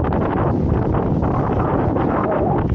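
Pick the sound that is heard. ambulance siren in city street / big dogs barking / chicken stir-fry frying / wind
wind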